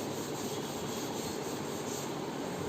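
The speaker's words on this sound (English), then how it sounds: "Now I am rubbing the board." A classroom board wiped clean by hand: a steady, close, rasping rub continues without pause, fairly quiet, with no talk.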